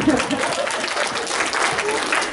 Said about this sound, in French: Et on peut les applaudir encore une fois.